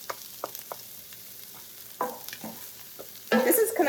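Garlic, ginger, onions and peppers sauté in a pan: scattered scrapes and taps of stirring over a faint sizzle, ending in a louder burst of crackling frying.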